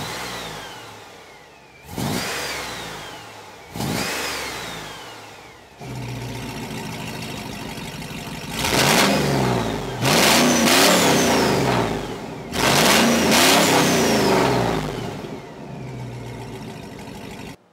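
A 700 HP street van's custom exhaust revs repeatedly, each blip rising to a loud roar and falling back to idle, with several sharp bursts close by and no talking.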